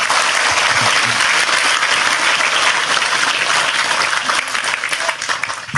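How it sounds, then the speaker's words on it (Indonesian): Loud, sustained applause from a large audience at an Indonesian stage event, dense and continuous clapping close by that thins slightly near the end. "Sekali lagi tepuk tangan lebih keras untuk Tejo."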